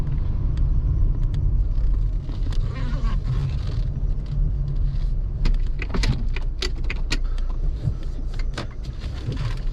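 Mercedes-Benz A-Class car on a test drive, heard from inside as a steady low engine and road rumble with scattered small clicks and rattles throughout.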